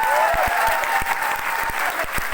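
Seminar audience in Kota claps loudly and steadily with hands raised, a dense continuous wash of applause with sharp individual claps standing out, some crowd noise underneath.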